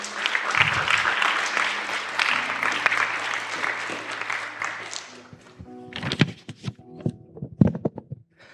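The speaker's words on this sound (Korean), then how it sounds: "학생 나올 때 우리 한 번 더 박수로 격려해 주시고요." Church congregation at a thanksgiving service applauding to encourage a student, a full burst of clapping for about five seconds that cuts off, followed by scattered taps, bumps and footsteps as someone comes forward.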